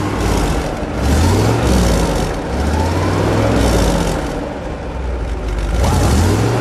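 A 1957 Buick Roadmaster convertible's engine is revved, a loud, close, deep rumble that rises and falls in pitch in slow swells across several seconds, with no talk.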